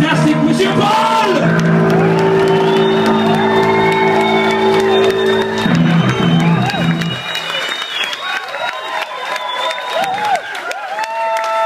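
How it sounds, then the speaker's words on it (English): A concert crowd at a rock show in the Batschkapp, Frankfurt, applauds, cheers and whoops loudly and continuously, while a voice calls out over the noise and the cheering thins toward the end. "Give him your deepest hand of applause"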